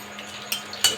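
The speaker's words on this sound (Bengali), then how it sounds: "একটু নেড়ে নেব।" A utensil clinks a couple of times against a pot while stirring dried red chili and whole cumin in hot oil, with soft, brief taps over a quiet background.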